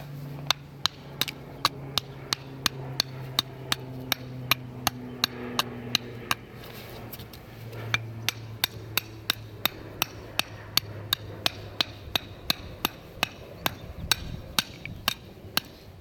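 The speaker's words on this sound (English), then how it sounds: "You have to just come with the hammer" Sharp hammer strikes chipping stone ring out in a steady series of dozens of blows, hard and close, over a low background hum.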